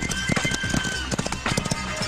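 Horse hooves clip-clop in a quick, uneven rhythm of sharp knocks, close and fairly loud, with a comedy scene's voices and background noise mixed in.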